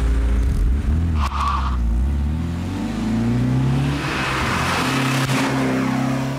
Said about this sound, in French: j'ai simplement posé une admission directe. Ça apporte aucun gain, c'est simplement au niveau du bruit.